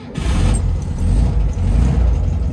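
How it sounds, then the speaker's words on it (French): A restored 1969 Volkswagen Beetle convertible's air-cooled engine catches and settles into a steady, loud, close low rumble with slight surges, and no voices are heard. "Ça démarre au quart de tour."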